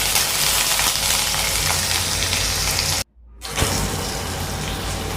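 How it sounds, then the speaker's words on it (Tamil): Chopped onions sizzle and fry in hot oil in a home kitchen pan, a steady loud crackle that cuts out briefly midway and then resumes just as strongly. "வெங்காயம் நல்லா ஆயிலே ஃப்ரை ஆகட்டும்."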